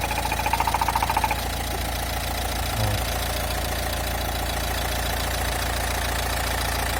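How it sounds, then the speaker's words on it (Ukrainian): The engine of a 2018 Renault Trafic van with 94,000 km idles steadily at low pitch, a constant close mechanical hum with a brief rattling tick at the start. "Дивіться, як працює мотор."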